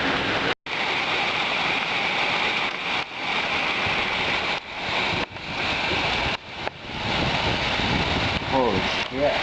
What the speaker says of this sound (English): And it's hailing and storming.